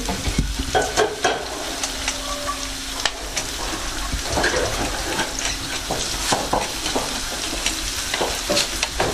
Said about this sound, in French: Tu les mets dans la poêle ici.